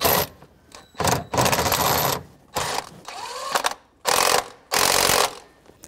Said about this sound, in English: I'm going to snug it up with a 3/8 drive